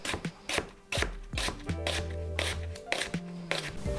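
A knife slices a peeled onion finely on a cutting board, giving a series of crisp, irregular chops close up with brief pauses between strokes.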